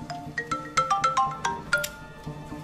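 A mobile phone ringtone in an office setting plays a bright, melodic sequence of rising and falling electronic tones, moderately loud and close, repeating for a few seconds before fading.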